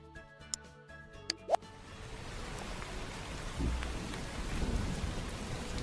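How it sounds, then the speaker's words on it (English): A rain sound effect plays during a livestream, building from scattered drops and plops into a steady, moderately loud patter with low thunder-like rumbles, no voices over it. "Oh, the rain."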